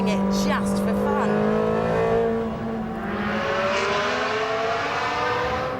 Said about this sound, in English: you end up revving it just for fun